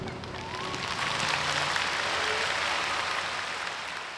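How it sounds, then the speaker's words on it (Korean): An audience at an outdoor piano festival applauds the pianists, a broad, even wash of clapping that swells slightly and holds steady, heard at some distance over faint crowd murmur. "피아니스트를 향한 힘찬 박수를 보냈습니다"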